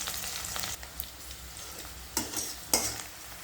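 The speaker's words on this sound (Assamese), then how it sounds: "পিঁয়াজখিনি ভাজি আছোঁ।" Onions frying in a pan for a bottle gourd curry with prawn fish, a faint continuous sizzle under occasional scrapes and clinks of a stirring spoon against the pan, two sharper knocks near the end.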